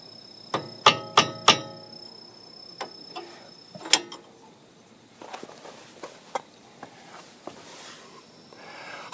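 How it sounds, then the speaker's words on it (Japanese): A hammer strikes a car coilover suspension on an AE111 Corolla Levin during ride-height adjustment, giving several sharp metallic taps in quick succession and then one more clang, followed by quieter handling clatter. "念のために自分はハンマーで 2、3回叩いておきます。"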